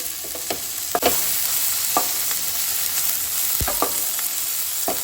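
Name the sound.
tomatoes sautéing in a pan for Goan egg curry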